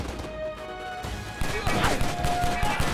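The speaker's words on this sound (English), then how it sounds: "And he's shooting at a wall?" Gunfire in the video game Stranglehold, a rapid cluster of sharp shots and impacts against a wall under game music, moderately loud with background hum.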